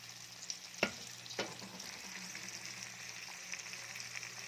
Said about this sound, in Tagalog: Tsaka ilagay natin yung ating sayote.